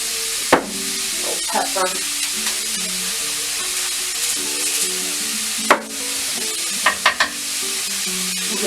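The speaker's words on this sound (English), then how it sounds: "we're going to brown up this meat" Seasoned meat for cheesesteak eggrolls browns in a hot pan with a loud, continuous sizzle, broken by a few sharp scrapes and clacks of a utensil. A voice speaks briefly over it.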